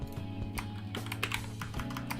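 Rapid typing on a computer keyboard, a steady run of close, crisp clicks and taps over a constant low hum, with no voices.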